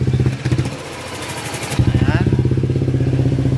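A motorcycle engine fitted with just a pipe idles after a cylinder head replacement, settling into a steady, close, rhythmic throb once a man's brief words at the start end.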